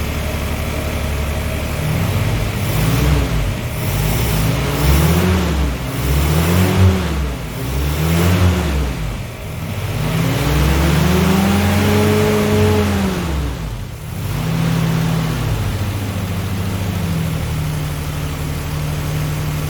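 A Ford GPW Jeep engine with a newly replaced carburettor idles loudly and close, rising and falling through a series of repeated revs before settling back to a smooth idle.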